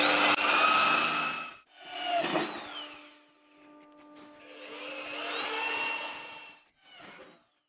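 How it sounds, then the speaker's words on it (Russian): Electric drill with a 4 mm bit boring mounting holes in a control panel housing, several whining bursts of motor speed rising and falling, loud and close, with short pauses between holes. "Просверлили 4 отверстия подкрепления пульта, прямоугольное отверстие под разъем."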